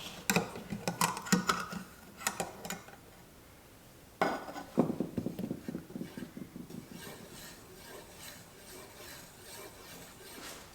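A can of Minwax Special Walnut wood stain being stirred, with rapid metallic scraping and clinking against the tin in bursts, a brief pause, then more stirring that tapers off quietly.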